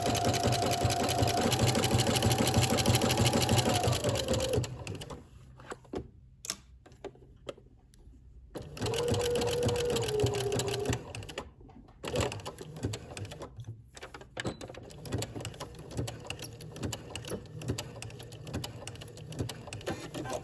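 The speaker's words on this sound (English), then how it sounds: "we're going to begin and end with a back stitch starting at the bottom of the sleeve" A home sewing machine back stitches a sleeve seam on a beginner's maxi dress (Simplicity 8874), running in close, steady bursts of stitching with a short pause and a brief restart partway through.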